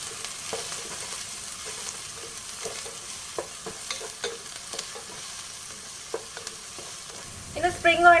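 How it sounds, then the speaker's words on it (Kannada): Chopped onion and garlic fry in hot oil over a high flame for egg fried rice, with a constant close sizzle and scattered clicks of stirring, then louder clattering near the end. "ಕಟ್ ಮಾಡಿಟ್ಟಂತಹ ಆನಿಯನ್ ಹಾಕ್ತಾ ಇದ್ದೇನೆ."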